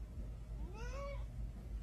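One faint, drawn-out cat meow plays back from a video, rising and falling over a steady low hum.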